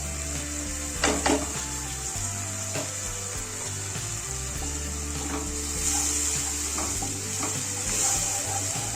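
Spices, ginger-garlic paste and a little water are being stirred in a hot cooking pan, giving a steady sizzle with scraping knocks of the spoon scattered throughout.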